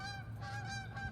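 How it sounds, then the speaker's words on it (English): Geese honk repeatedly as they fly in over ponds in the countryside, a steady chorus of nasal calls heard from a distance. "You hear the honkers? Those are the geese coming in."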